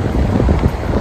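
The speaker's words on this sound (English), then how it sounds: "I'm at the beach" Steady wind buffets the microphone on an Atlantic beach while surf rumbles underneath, a continuous broadband roar with gusty swells and no voices.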